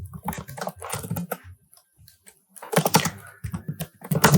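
Computer keyboard typing while writing Python class code, with bursts of keystrokes around a quiet gap, close and fairly loud.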